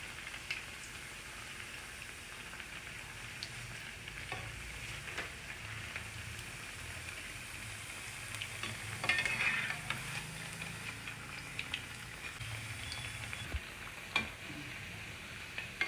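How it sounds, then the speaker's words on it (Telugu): A healthy evening snack frying on both sides in a pan gives a soft, steady sizzle with light crackling ticks, a brief louder flare partway through, and a fairly quiet, close sound with no voices. "వేగుతున్నాయండి రెండు వైపులా వేగినాయి చూడండి"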